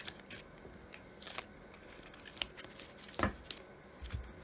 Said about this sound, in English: Let's draw a few more of these tea leaf cards.